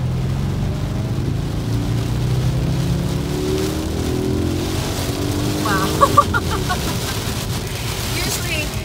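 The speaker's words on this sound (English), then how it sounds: "I want to show you guys an acceleration run in the rain so you can see just how awesome this all-wheel drive system is in this Audi." A 2007 Audi S4 Quattro with all-wheel drive accelerates hard on a wet road in the rain, its engine note rising steadily under road and rain noise, heard from inside the car.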